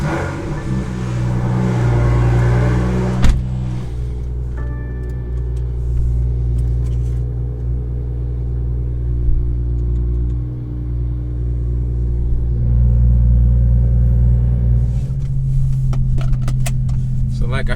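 A BMW M2 rumbles steadily from inside the cabin while driving to a car wash, a low continuous engine drone with a brief click and slight swells as it moves along.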